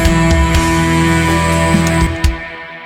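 Extreme metal: a loud, dense wall of distorted instruments with a heavy, pulsing low end. It plays alone for about two seconds, then cuts off abruptly and leaves a brief, thinner tail.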